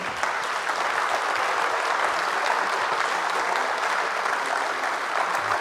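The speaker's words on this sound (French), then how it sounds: "Je vous demande de les applaudir." Sustained applause from an audience at a public citizenship debate, an even wash of many hands clapping at moderate distance, steady for several seconds with no voices over it.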